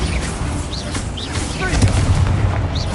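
A Bombarda blasting spell goes off in the video game Hogwarts Legacy, a loud booming burst set among dense game combat noise with whooshing spell effects and a voice calling out over it.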